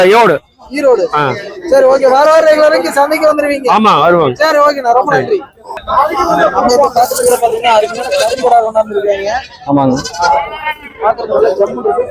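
Goats bleating at a Kunnathur goat market where large rams are brought for sale, loud repeated wavering bleats close by, with people talking underneath.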